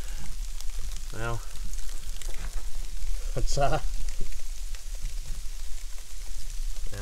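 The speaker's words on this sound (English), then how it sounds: "it's like freezing rain to the max." Freezing rain falls steadily outside a cabin during a snow storm, a constant dense hiss and patter close by, while someone speaks briefly over it.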